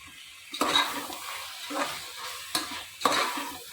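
Mint and coriander being stirred into a mutton biryani masala in a hot pot, with repeated scraping strokes over a steady frying sizzle, close and moderately loud, with no talking.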